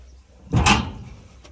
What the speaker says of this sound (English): Pull this door open.